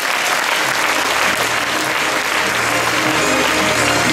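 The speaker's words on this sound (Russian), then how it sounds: "Ваши аплодисменты." A big hall audience at a 2019 youth forum bursts into loud, sustained applause. The clapping is dense and steady, with a low murmur or hum underneath.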